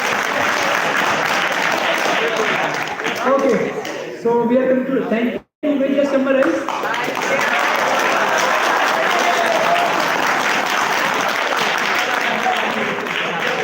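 Audience at the Sankalpa Camp faith session clapping in broad, steady applause, briefly cut off midway, with a voice talking over it near the middle.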